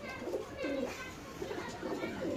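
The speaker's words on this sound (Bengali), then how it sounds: "বড় সাইজের কবুতর" Large pigeons at a market seller's cages coo in soft, repeated low throaty phrases, close by, with faint voices in the background.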